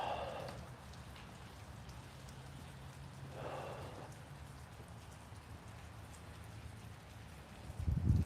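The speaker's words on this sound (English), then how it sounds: "It's rain now, but it's going to turn to snow" Steady rain falls on a cold, raw day at an outdoor golf driving range during a nor'easter, a continuous soft patter heard close by and alone, with a couple of brief brighter bursts and a louder thump at the end.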